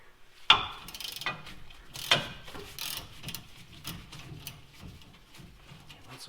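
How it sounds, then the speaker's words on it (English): A ratchet loosens a 14mm nut on a Toyota Tacoma's rear suspension during an add-a-leaf lift install. It gives a sharp close click, then a run of quick, uneven ratcheting clicks and faint clatter, with no talk. "now we're ready for a 14mm nut up here"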